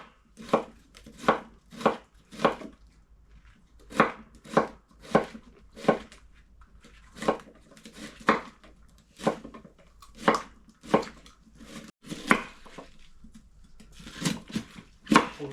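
A knife chops through a firm cucumber on a cutting board, giving sharp close knocks in quick bursts of three or four with short pauses between groups.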